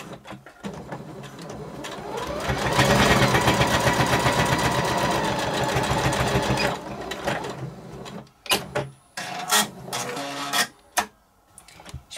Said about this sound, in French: je vais piquer au plus près du bord en essayant d'avoir un point assez régulier